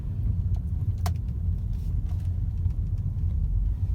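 A repaired auction car's engine runs steadily with a loud, close low rumble, and a few light clicks and rattles sound over it.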